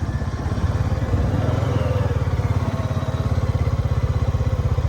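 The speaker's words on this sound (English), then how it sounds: "we're going to do a river crossing one-handed on the quad, and it shouldn't be really too bad, but we'll just hedge our bets and put it in 4-wheel drive" A quad ATV in 4-wheel drive crosses a river, its engine putting out a close, steady, rhythmic chugging throb that stays loud and fairly even throughout.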